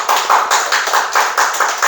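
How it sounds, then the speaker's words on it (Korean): A church congregation claps together at a Sunday service, a steady run of quick, dense hand claps heard close and loud with no talking over it. "우리 이선아 집사님도 힘내시라고 좀 박수."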